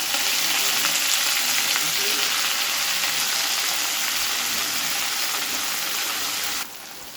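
About 250 g of finely chopped fenugreek leaves (methi) sauté in two to three spoonfuls of hot oil in a kadhai. A loud, dense sizzle holds steady, then drops off abruptly near the end.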